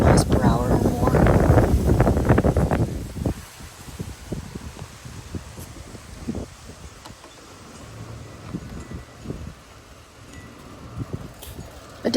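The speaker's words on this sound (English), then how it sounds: "These at least have to be 50 miles per hour or more." Strong wind storm gusting around 50 mph in Montague, Louisiana, roaring and buffeting the microphone loudly at first, then easing into gusty rustling with scattered knocks; someone talks over it early on.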